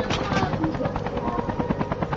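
Helicopter in Call of Duty: Mobile battle royale, a steady loud rotor thrum with rapid chopping pulses filling the whole moment, close by.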